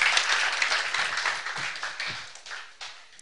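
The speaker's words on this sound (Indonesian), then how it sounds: "Tepuk tangan, thank you" An audience claps at a church gathering, starting as a bright, full round of applause that gradually thins out and fades toward the end.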